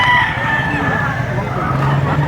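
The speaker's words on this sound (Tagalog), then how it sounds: "Gulang ang manok na ito." A rooster crows at a Filipino poultry market where birds are being priced for sale, the call rising over steady crowd babble and nearby voices, moderately loud throughout.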